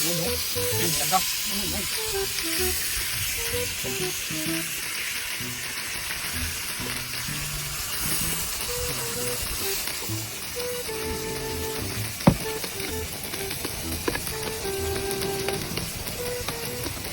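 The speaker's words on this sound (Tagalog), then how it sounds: "nagpuputok-putokan pa dyan yung ating ginagawang sisig" Pork sisig sizzles and crackles on a hot sizzling plate, giving a loud, constant frying hiss dotted with sharp pops and small spattering bursts.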